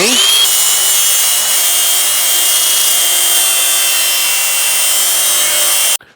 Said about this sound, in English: So I'm going to put my angle grinder back in there and give it a go.